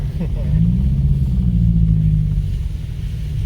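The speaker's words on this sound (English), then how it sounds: "Rally car." An off-road car engine rumbles and revs close by on a muddy trail, a loud, low, sustained drone that swells briefly and then eases.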